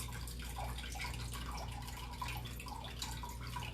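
Pineapple juice pours steadily into a container, a soft continuous liquid trickle with faint drips over a low background hum, fairly quiet and with no talk.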